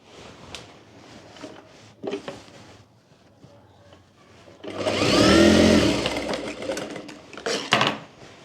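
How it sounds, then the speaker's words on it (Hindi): Domestic sewing machine running a steady stitch through baby frock fabric, a loud continuous mechanical whir lasting a few seconds, with quieter handling noises and a voice before it. "सबसे पहले यहाँ बाहर की साइड से एक एक सिलाई कर लेंगे।"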